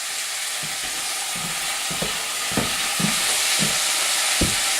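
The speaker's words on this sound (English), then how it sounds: "Use our knife to stir a little bit here. Get everything loose." Onions and peppers sizzle steadily in a hot pan while a knife scrapes and stirs through them in several short, close strokes.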